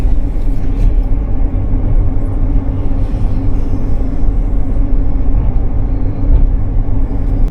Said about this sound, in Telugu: సో ట్రైన్ అయితే న్యూ జల్పైగురి నుంచి బయలుదేరింది.